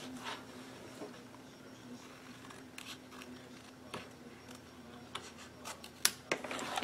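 Scissors snip through paper at an angle, with faint, quiet cuts and rustles spaced irregularly and a few sharper snips near the end.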